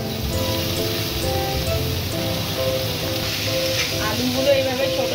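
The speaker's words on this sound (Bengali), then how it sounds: "পেঁয়াজটা একটু হালকা ভাজা ভাজা হচ্ছে" Onion frying lightly in oil makes a soft, continuous sizzle with faint bubbling and occasional kitchen clinks, heard alone with no talk.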